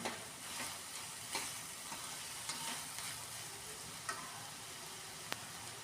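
Green chillies and onions fry in a pan with a steady soft sizzle, punctuated by occasional clicks and scrapes of stirring, fairly quiet and close, with no talking.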